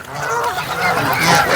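Geese honking loudly at a feeding frenzy alongside swans in a country park, a dense, close chorus of overlapping honks that builds over the moment.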